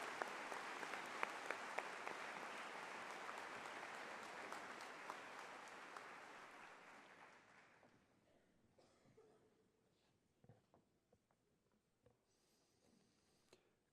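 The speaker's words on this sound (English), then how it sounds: "Let's give these students a round of applause for this wonderful achievement." A crowd at the Landrum High School Class of 2019 graduation claps for the graduating students. The dense applause is loud at first, then thins and fades over several seconds, leaving a few scattered claps near the end.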